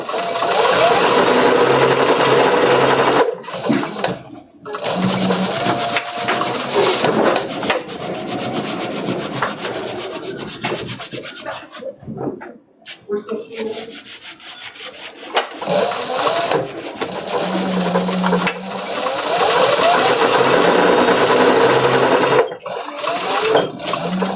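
A sewing machine stitches a leather strap pad for a briefcase in steady, loud runs, broken by a few short pauses and one longer gap near the middle.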